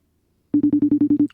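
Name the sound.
phone call ringing tone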